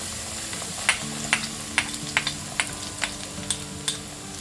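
Sliced garlic and dry red chilies frying with cumin seeds in hot oil: a steady sizzle with a series of sharp, evenly spaced crackles and pops, close and moderately loud.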